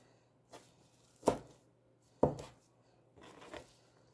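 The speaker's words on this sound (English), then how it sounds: "I'm just going to give it a rough chop." A knife roughly chops fresh cilantro on a board, giving a few quiet, separate cuts with two sharper strikes in the middle, close and without talk.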